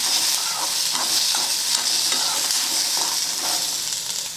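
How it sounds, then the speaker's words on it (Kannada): Chopped onion and garlic frying in hot oil for tomato chutney, a steady bright sizzle with soft scraping of a spatula as it is stirred, close up and without talk. "ಉಳ್ಳಾಗಡ್ಡಿ ಬೆಳ್ಳುಳ್ಳಿ ಹಸಿ ವಾಸನೆ ಹೋಗೋವರೆಗೂ ಹುರ್ಕೋಬೇಕು ರೀ."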